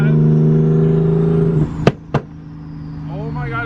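Toyota Chaser revving hard with its tires spinning, a loud steady engine drone with two sharp bursts near the end, while voices talk over it.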